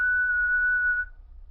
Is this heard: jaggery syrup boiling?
no